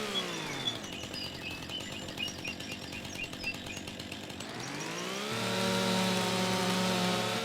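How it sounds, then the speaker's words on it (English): A chainsaw in Farming Simulator 25 trims a tree, its engine buzzing steadily with rough cutting texture, then revving higher and smoother for the last few seconds, loud and alone with no talk. "Let's just see if we can kind of slowly trim this tree down."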